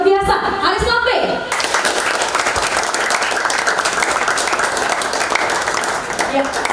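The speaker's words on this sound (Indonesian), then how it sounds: "kita berikan tepuk tangan yang sangat luar biasa, Haris Lambe" An announcer's voice briefly precedes loud, dense audience applause at a live talk show, which then carries on steadily for several seconds.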